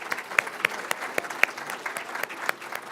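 A small banquet audience at the GRCC Honors Banquet claps for about three seconds, sparse and uneven, with a few sharp, close individual claps standing out.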